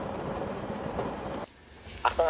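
Intercity train rolling into a station platform in a Grand Theft Auto parody game, a loud steady rumble that drops away abruptly, followed by brief tonal chime-like blips near the end.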